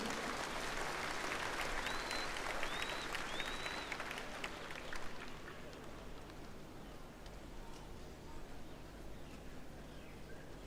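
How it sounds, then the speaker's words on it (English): Applause from a crowd welcoming the Speaker of the National Parliament and his wife at an independence anniversary ceremony, a steady broad clapping that holds for several seconds, then thins into ongoing crowd noise with faint whistles. "Please give them a round of applause"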